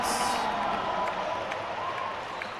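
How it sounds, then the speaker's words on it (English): The bench at a college men's basketball game in a gym applauds a player after a two-handed dunk, a steady wash of clapping and crowd noise heard faintly at a distance. "He gets a round of applause from his bench"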